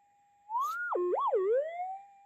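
A metal detector held over a lump of clay gives a clear electronic tone that swoops and warbles up and down in pitch before settling into a steady hum, alone with no talk.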